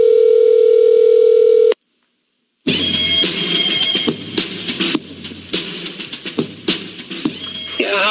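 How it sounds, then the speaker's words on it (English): Telephone line tones open a radio show's voicemail segment: a steady electronic tone, a brief silence, then a busy run of beeps and clicks with some voices mixed in. "it's time for the Chump Line, voicemail message service of the Howie Carr Show"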